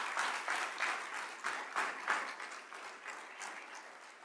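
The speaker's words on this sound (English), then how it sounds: "Can we give him a round of applause" Scattered, moderately distant audience applause at a fall convocation ceremony for the university chancellor, coming in uneven bursts that thin out toward the end.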